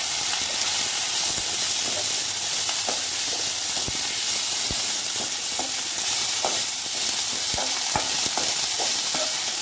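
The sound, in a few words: sautéing mint leaves in pan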